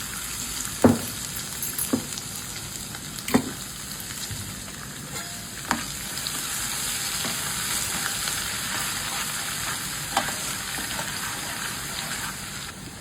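Garlic and curry leaves frying in hot oil in a pan for Telugu onion chutney, a continuous close sizzle with a few sharp clinks and stirring knocks scattered through, no talking.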